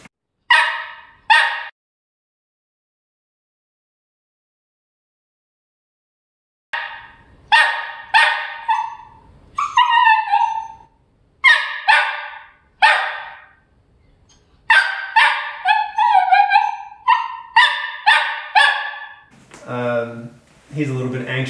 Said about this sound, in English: He barks really loud